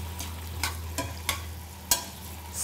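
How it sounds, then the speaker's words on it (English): Food sauteing in a hot pan, a steady low sizzle with a constant hum underneath, punctuated by four or five sharp clinks and scrapes of a utensil stirring against the pan. "Get a little saute on each side there."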